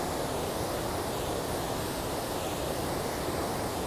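A Himalayan river flows in a steady, loud, broadband rush of water, continuous and close with no pauses or voices.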